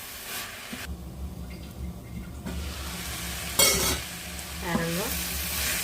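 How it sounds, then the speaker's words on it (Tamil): Garlic fries in a pan for a banana flower dish while being stirred, giving a close sizzle broken by spoon scrapes and a sharp louder hiss burst, with no talk. "இப்போ இந்த உள்ளின்ற பச்சை வாசம் போகிற வரைக்கும் இதை நாங்கள் வறுப்போம்"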